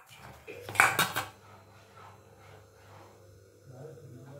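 Cupcake batter being spooned into moulds, with a loud cluster of spoon-on-metal clinks and taps near the start, then quieter faint handling sounds and low background murmur.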